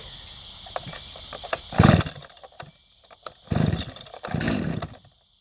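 A chainsaw with the choke on is pull-started repeatedly, giving several short, loud, rasping bursts as the engine briefly fires and sputters between quieter gaps, up close.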